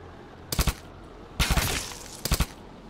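Three bursts of gunfire in an indie horror video game, each a tight cluster of sharp, loud shots, spaced about a second apart with quiet between them and no voices.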